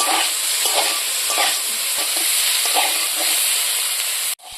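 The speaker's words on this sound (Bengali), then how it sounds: "তেলটা দিয়ে ভালো করে ফুলকপির রসাটাকে ভাজিয়ে নেব" Potatoes and cauliflower stems fry in oil in a pan, with a loud, continuous sizzle and hiss broken by soft, repeated stirring scrapes. No voices are heard.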